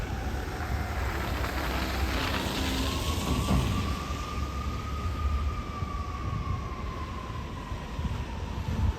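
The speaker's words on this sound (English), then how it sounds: "Another fire truck, sounds like." A fire truck siren passes through a snowy downtown. It is a faint, distant wail that rises and falls slowly over a constant rush of wind and traffic noise.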